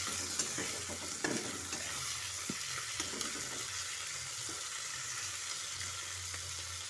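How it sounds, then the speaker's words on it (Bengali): Prawns frying in hot oil in a pan as a Bengali potol chingri dish is cooked, with a steady close sizzle and occasional scraping stirs and clinks throughout, and no talking. "চিংড়ি মাছগুলো হালকা লাল লাল করে ভেজে নেব"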